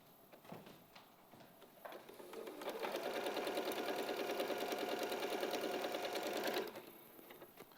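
A domestic sewing machine stitches steadily for about four seconds with a dense, fast mechanical whir, starting after a few faint handling clicks and stopping abruptly; the needle is set to the middle position at close range.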